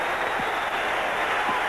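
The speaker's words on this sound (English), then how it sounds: "A standing ovation, and he deserves every inch of it." An arena crowd gives Larry Bird a standing ovation at a basketball game, a steady dense wash of applause and cheering that stays loud and even throughout.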